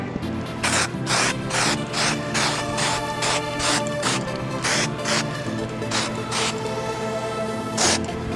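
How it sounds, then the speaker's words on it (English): A light coat of spray paint applied to a prop gun, a steady hiss broken by regular short bursts as the can sweeps back and forth, close and loud, no talk. "I like to spray a light coat first, and then work into a heavier coat"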